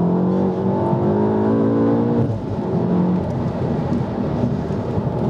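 A Volkswagen Golf R with a manual gearbox and Wavetrac limited-slip differential runs on a long race track, its engine droning loud and steady with a rising then falling pitch and heavy wind noise throughout.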